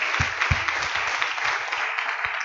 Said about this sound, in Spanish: Dale un aplauso a Jesús, que Él es la verdad.